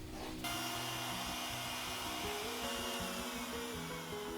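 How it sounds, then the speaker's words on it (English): Router cutting pickup cavities into an electric guitar body with an Indian rosewood top, spinning up after a brief quiet start into a loud, steady, close high whine with slight pitch shifts as it cuts, no talking. "Let's get these pickup cavities routed"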